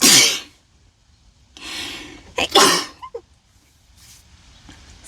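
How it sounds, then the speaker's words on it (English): A person sneezes loudly nearby inside a camper van while crafting, with a sharp burst followed by a breathy second outburst and a few quieter sniffs and breaths trailing off. "I'm going to sneeze."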